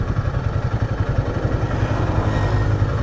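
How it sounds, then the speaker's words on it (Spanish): Motorcycle engine on a road in Guatemala, its low rhythmic thrum steady and close, sounding like it rides alongside or just past, with some rattling clatter throughout. "Primero uno se pasó en moto."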